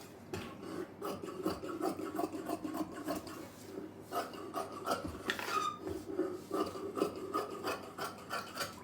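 Scissors cutting blouse fabric make soft, rhythmic rasping snips, repeated steadily at close range and fairly quiet, with no talk.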